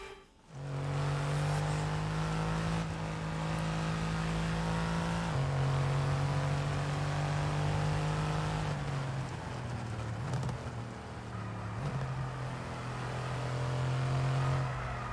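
An F1 car in the F1 22 racing game drones steadily at high revs for the whole stretch, with small pitch dips and shifts as it runs on, loud and close with no talk.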